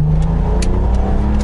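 A BMW E24 M635CSi engine growls loudly and steadily close by, with a deep throaty drone and brief sharp blips from quick throttle stabs during heel-toe downshifts.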